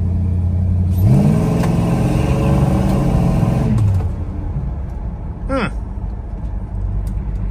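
A 1968 Dodge Charger with a 383 big block V8 pulls hard and loud, its rising engine note swelling for a few seconds and then easing off into a steady rumble. A voice talks over the driving.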